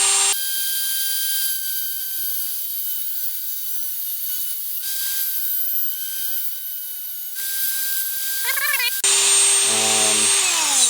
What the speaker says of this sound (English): Dremel with a cut-off blade on it.